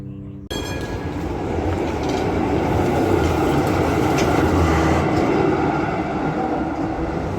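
Belgrade tram rolling past close by, a steady loud rumble of wheels on rails with faint clatter, starting abruptly and holding for several seconds.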